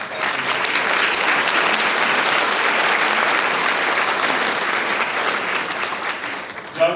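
A luncheon audience gives a sustained round of applause, dense and even clapping from many hands in a room that holds steady for several seconds, then tapers slightly at the end.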